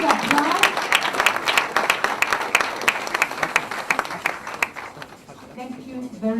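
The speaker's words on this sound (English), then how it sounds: "A big applause." An audience at a product launch applauds, starting with a brief voice and then moving into crisp, individually distinct claps that thin out toward the end, where a speaker's voice returns.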